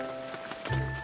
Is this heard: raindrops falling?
yes